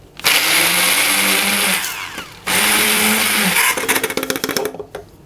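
A mixer grinder whirs loudly as it crushes peanuts, sesame, coconut powder and cumin, running in two sustained bursts with a brief stop between them, then winding down with rattling pulses.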